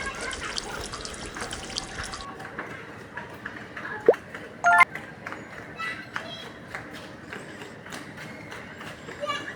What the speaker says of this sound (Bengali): এর মধ্যে কিন্তু প্লেটগুলো ধুইতে হবে